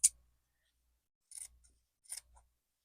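Scissors cutting folded denim pieces in half, three short crisp snips heard up close in a quiet room, spaced about a second apart.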